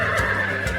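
Horse neighing in one sustained, loud whinny close by, with a brief shuffle of movement partway through, in a farm-animal setting.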